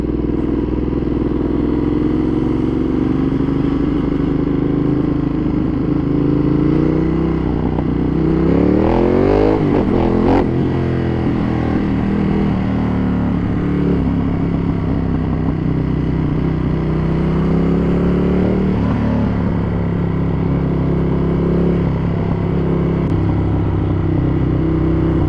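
A modified 2015 Ducati Monster 1200S rumbles loudly and continuously while riding, its engine note rising and falling through revs and gear changes, with a sharp upward sweep partway through.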